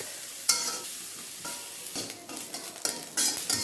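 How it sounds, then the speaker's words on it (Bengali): Grated coconut is stirred and lightly roasted in a little oil for coconut laddoos, giving soft, intermittent scraping and a low sizzle from a spatula, quiet and close. "হালকা ভাজা হয়ে গেছে, নারকেলের লাড়ুর ঘেরানটাই হয়েছে এই নারকেল ভাজা"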